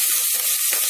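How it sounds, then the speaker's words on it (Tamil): Onions and curry leaves sauté in a pan for rice-and-dal, giving a steady close sizzling hiss with faint stirring scrapes through a brief stretch, no voices. "இதை நல்லா வதக்குங்க. வெங்காயம் ஓரளவு வேகணும்."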